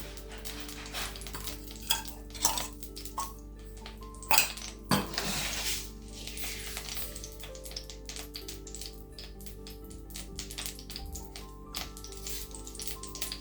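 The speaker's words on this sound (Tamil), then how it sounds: "சட்டி அடுப்பில் வச்சுட்டேன். கொஞ்சம் எண்ணெய் ஊற்றிக்கலாம்." A pan for broad beans stir fry is set on the stove with a couple of metallic clanks, then oil is poured in, followed by light scraping and clinking in a quiet kitchen.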